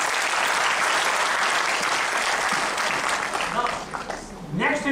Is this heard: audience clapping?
yes